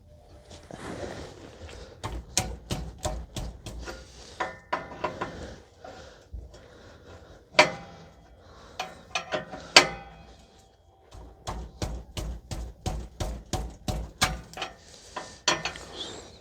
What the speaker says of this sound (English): So I'm going to try to remove the sensor now with the wrench.